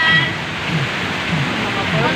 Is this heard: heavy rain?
yes